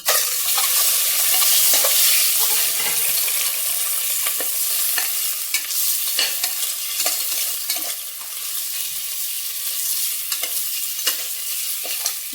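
Boiled eggs being stirred into a salted masala in a pan while making egg biryani, giving a steady close sizzle with scattered spoon scrapes and taps throughout, no voices.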